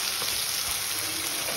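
Onions frying in a pan for a mutton lunch, with a steady, dense sizzle that runs close and continuous, no voices.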